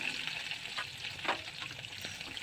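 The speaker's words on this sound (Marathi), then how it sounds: "आपल्याला त्याच्यामध्ये मिरच्या टाकायची आहे हिरव्या मिरच्या आणि त्यांना पण छान असं परतून घ्यायचं आहे" Green chillies and garlic sauté in hot oil in a pan for a green chickpea curry, a faint, steady sizzle broken by a few soft scrapes of stirring.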